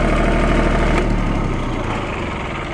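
A farm vehicle engine on a banana plantation runs at a steady idle, loud and close with a constant low drone and rattle, easing slightly toward the end as it is switched off.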